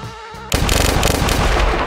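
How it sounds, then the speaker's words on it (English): A cluster bomb goes off in Hitman 3. A quiet tonal hum cuts abruptly into a loud, dense crackle of many rapid small blasts that rattle on continuously to the end, with no talk. "It turns into a cluster bomb."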